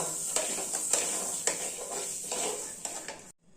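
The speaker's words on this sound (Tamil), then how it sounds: "நல்லா வறுத்துக்கணும்" Health mix ingredients, including almonds, cashews and a piece of dry ginger, are dry-roasted in a pan, with metal scraping and clinking from steady stirring and repeated sharp taps against the pan until it cuts off near the end.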